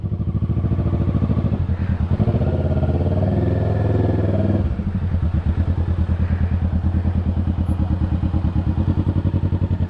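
A motorcycle in Philippine street traffic, its engine close and loud with a steady rapid putter, a brief heavier drone midway, then a regular idling throb as it moves along.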